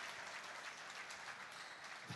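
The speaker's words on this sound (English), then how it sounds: "it's a double round of applause, not only for that rally, Dave, but for the score being tied." Crowd applause at a tournament after a rally, a dense continuous clapping that sounds fairly distant and quiet, with no talk over it.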